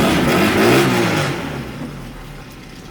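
A car engine revs loudly at the start, then settles and fades into a lower steady running sound over about three seconds, close by with no talking.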